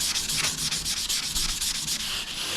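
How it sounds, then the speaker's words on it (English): Sanding sponges rubbed at an angle along the oxidized frets of a Squier 40th Anniversary Jazzmaster Gold Edition guitar, giving a steady, close, continuous abrasive scrubbing with rhythmic back-and-forth strokes and no talking. "you can use these sponges at a 45-degree angle and just rub them down"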